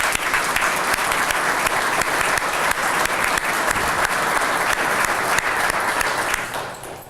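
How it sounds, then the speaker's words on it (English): An audience stands and gives General Rice a sustained round of applause, loud dense clapping from a large crowd that holds steady and then fades out at the end, with no talk over it. "Will you all stand as we give him another round of applause,"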